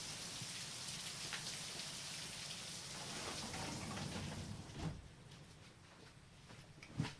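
Heavy rain pours steadily in a dense broadband hiss, then drops in level partway through as if muffled, with a soft thump near the end.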